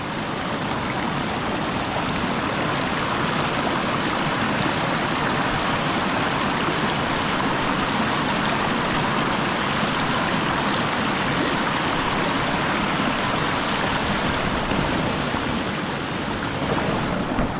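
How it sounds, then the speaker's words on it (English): Fresh glacier meltwater stream flowing during a snowy Alaska hike, a steady, dense rushing roar heard close up and unbroken throughout, with no voices. "refill my water from the fresh downstream glacier water which is flowing here"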